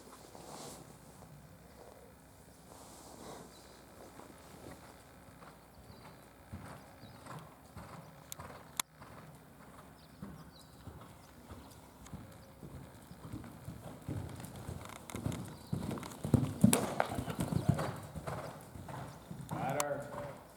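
A horse canters with rhythmic clip-clopping hooves that grow louder as it nears, heard alongside a person's voice giving instructions.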